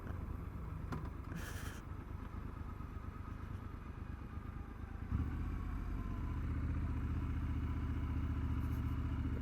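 A 2021 Triumph Scrambler 1200 XE motorcycle engine rumbles steadily close by. Partway through it rises to a louder, fuller drone and holds there, with no talking.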